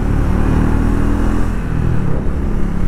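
A Triumph Speed 400 motorcycle accelerates with a loud, steady engine roar and heavy wind rumble, heard up close from the rider's position, with no speech.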